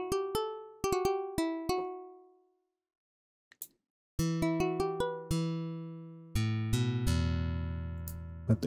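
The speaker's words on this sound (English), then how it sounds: "It sounds pretty much like a nice guitar" Waveguide-synthesized guitar tone with added noise: a series of sharp plucked notes, each decaying, with a short gap before a denser run of plucks that ring into one another. No one speaks.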